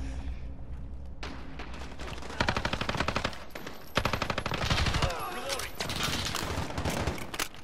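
Call of Duty Modern Warfare 6v6 multiplayer gunfire, sustained rapid automatic bursts with sharp single shots, loud and dense, while a player talks over the shooting.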